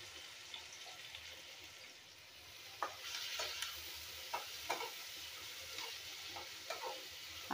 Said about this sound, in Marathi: आता कांदा आपल्याला ह्याच्यामध्ये तेलामध्ये